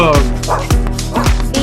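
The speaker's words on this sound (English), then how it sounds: "D for dog." A small dog barks and yips repeatedly in a quick rhythm, loud and close, mixed in with a child's alphabet-learning track where a voice is also present.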